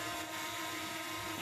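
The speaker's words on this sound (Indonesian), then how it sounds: "drone-nya sudah kembali" A high, steady motor whine from a DJI Mini 2 SE camera drone flying back hums nearby without pause, a buzzing rotor tone holding level through the short stretch.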